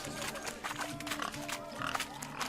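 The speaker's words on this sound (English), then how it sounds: "Blustering about after pigs, are you?" Pigs oink and grunt at a pig race in The Witcher 3, a close, busy chorus of snorting squeals over a low murmur of background voices.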